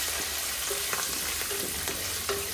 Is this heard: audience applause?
no